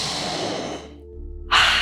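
Audible breath pushed out through the mouth during a prenatal yoga practice for the third trimester, a soft breathy rush that fades to near silence before a second, brighter exhale starts abruptly at the end.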